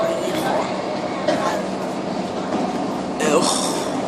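Interior of a moving passenger train, a steady low rumble with faint rattling and a brief swell of noise near the end, while a person talks over it.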